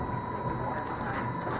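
A MARTA subway train rumbles along at steady speed, a continuous roar with a high whine and light rattles, while a recorded announcement voice speaks over it.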